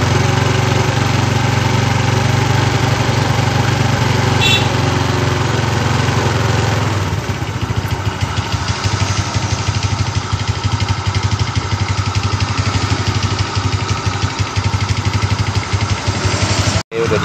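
An engine idles while warming up before a radiator flush. The steady, even running continues close and loud throughout, with a slight change in tone partway through.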